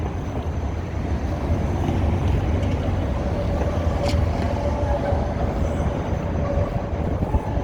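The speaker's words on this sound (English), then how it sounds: "There's another train. It's called the elevated train, or L for short." A Chicago elevated L train rumbles past on Wabash Avenue in the downtown Loop, a steady, loud roar of wheels and cars on the overhead track that holds throughout amid city street noise.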